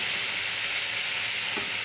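Tomato and spices for a chicken curry fry in a pan with a dense, even sizzle that runs unbroken and close throughout.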